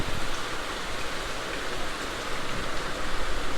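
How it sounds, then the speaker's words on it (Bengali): Steady rain falls throughout, a dense, even hiss of drops striking surfaces, fairly close and continuous, with no voices. "বৃষ্টি নেমে গেল দেখো"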